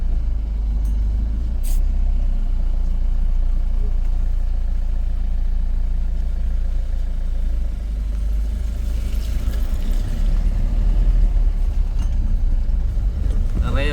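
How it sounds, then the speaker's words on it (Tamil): A motorbike engine putters steadily along a rough, potholed, water-filled road, with low rumbling and occasional jolts and rattles, a voice talking faintly over it. "இந்த வீதியால் இந்த மோட்டர் பைக் பயணிக்குதுன்னு பாருங்கள்"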